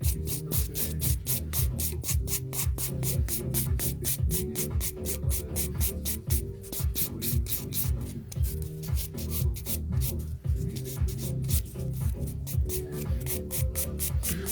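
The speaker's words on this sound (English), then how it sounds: "we're buffing in a downward direction, and that's going to help remove a lot of the scratches on the nail" Steady rapid rasping of a buffer rubbed downward across a fingernail to smooth out scratches, a continuous close scratchy back-and-forth texture with no talking.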